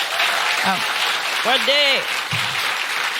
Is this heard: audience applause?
yes